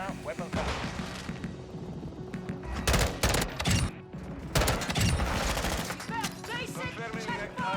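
Bursts of M16 rifle fire ring out in Modern Warfare 2 gameplay. Dense, rapid gunfire comes in clusters among other battle noise, with voices talking over it.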